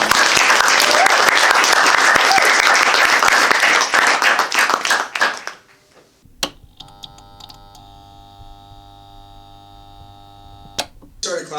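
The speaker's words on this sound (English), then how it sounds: "Started clapping for myself." Loud, dense audience applause at a live show fills the first half, then fades out to a quiet room with a low hum and a few isolated sharp claps.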